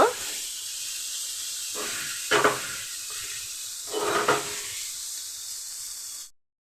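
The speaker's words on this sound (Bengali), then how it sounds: "অল্প করে ভেজে নেব। আবার ভাজাটা হয়ে গেল, নামিয়ে নেব।" Pointed gourd stuffed with small shrimp shallow-fries in hot oil, a loud continuous hiss with two brief bursts of spatter, ending abruptly in silence.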